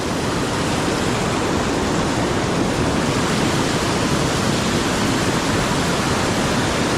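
Steady broadband rush of a river or stream where trout and salmon are fished, loud and continuous for the whole stretch with no voices.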